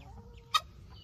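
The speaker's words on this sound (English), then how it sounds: "I will try to demonstrate picking up a chicken." A chicken gives one short, sharp cluck while being picked up, standing out clearly above a quiet background with faint low rustling.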